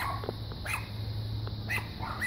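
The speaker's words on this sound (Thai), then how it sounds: "น้องหมาข้างบ้านเห่าใหญ่เลยอ่ะ" A neighbor's dog barks from indoors next door, three sharp barks spaced about a second apart, moderately distant over a steady outdoor garden background hum.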